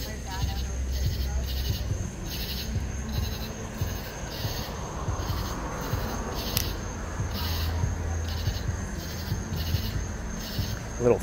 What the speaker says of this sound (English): Little frogs or something up in the trees.